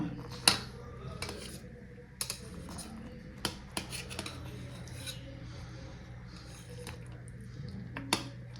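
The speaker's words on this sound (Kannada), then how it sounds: "ನಾನಿವಾಗ ತೋರಿಸೋದಕ್ಕೆ ಅಂತ ಹೇಳಿ ಹಾಗೆ ಕಟ್ ಮಾಡ್ತಾ ಇದ್ದೀನಿ" A knife slices through freshly set ginnu, a colostrum milk pudding, in a dish, giving soft scattered clicks and scrapes against the vessel, with a few sharper taps standing out over a low steady background hum.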